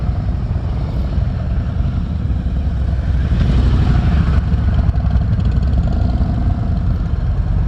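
A motorcycle engine idles at a riding class, a steady close rumble that rises slightly in loudness midway and keeps running without talk.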